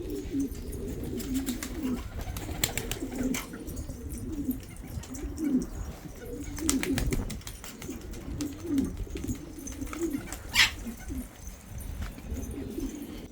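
Pigeons coo in low, repeated bubbling calls close by, with occasional wing flutters and light rustling.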